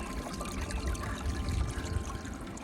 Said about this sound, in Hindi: ये देख सकते हैं ग्लेशियर का पानी चल रहा है नीचे